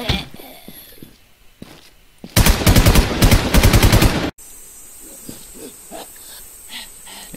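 Gunfire and sniper shots in the video game Infestation, with a loud rapid burst of automatic fire lasting about two seconds between quieter scattered shots and game ambience.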